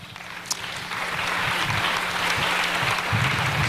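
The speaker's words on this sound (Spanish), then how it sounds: "Dale un fuerte aplauso al Señor" A church congregation applauds the Lord during a Spanish-language sermon, a dense, steady wash of clapping that swells after the first second and holds near and loud, with a low tone humming beneath.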